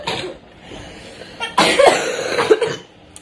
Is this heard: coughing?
yes